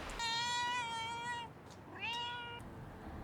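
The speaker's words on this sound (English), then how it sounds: "Look, another cat came by, circling around my feet." A street cat in a small Chinese coastal town at night gives two clear meows close by, a long drawn-out cry followed by a shorter one, with no talking.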